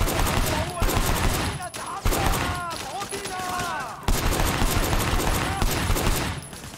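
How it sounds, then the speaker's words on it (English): Gunshots ring out from a van's passenger window in the video game Sleeping Dogs, with repeated sharp bursts and rapid volleys that are loud and close, mixed with shouting voices in between. "Firing shots from the passenger window."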